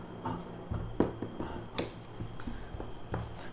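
Scissors cutting straight through blouse fabric for a lining, with several soft snips and rubbing sounds at close range and no talking.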